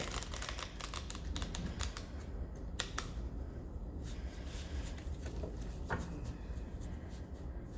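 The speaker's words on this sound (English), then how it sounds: "I'm just going to do one more shuffle and then clear the deck" Rapid crisp riffling and flicking of tarot cards, a dense papery rustle with sharper snaps scattered through, close by and fairly quiet, no voices.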